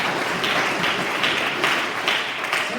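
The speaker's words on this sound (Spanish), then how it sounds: "Sí, un fuerte aplauso, amén." Sustained applause from a church congregation, a steady dense wash of clapping at even loudness throughout, with faint voices mixed in.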